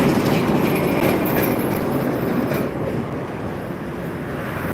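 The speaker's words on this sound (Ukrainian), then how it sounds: "трамвайчики, хто не бачив трамвайчики." A loud, steady rumble of a tram rolling past nearby on a city street, broad and continuous, fading slightly toward the end.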